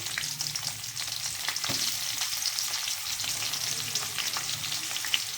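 Onion frying in a pan for fried rice, a continuous close crackling sizzle with scattered spitting pops and occasional utensil scrapes, no talking.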